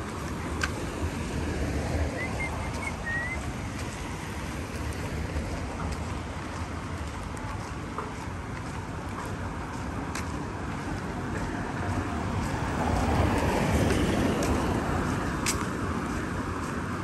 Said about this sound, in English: Suddenly raining.